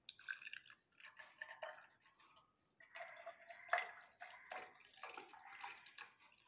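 Homemade grape juice being poured into a glass, with close, bubbling splashes in several bursts and a short pause partway through.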